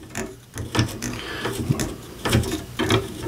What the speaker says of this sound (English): I'm going to make another cut on my wood dowel